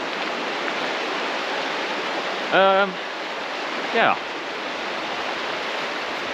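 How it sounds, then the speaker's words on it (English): A nearby river rushes in a steady, even roar throughout, with two short bursts of a voice over it. "Sorry about the noise, but the river is the river."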